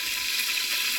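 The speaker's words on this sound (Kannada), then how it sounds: "ಎಣ್ಣೆ ಹಾಕ್ತಾ ಇದ್ದೀನಿ ನಾನು" Oil and ghee sizzling in a pan: a brief, steady, bright hiss that stays even throughout.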